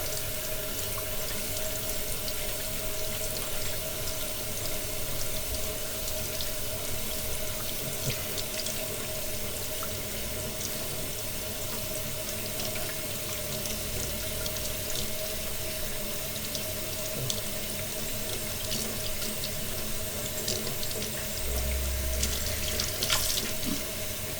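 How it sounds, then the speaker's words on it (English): Garden hose water rinsing an Arlen Ness Stage 1 motorcycle air filter from the inside out, a steady close hiss and splash running continuously with no talk. "And you always hose it from the inside out. Rinse it from the inside out."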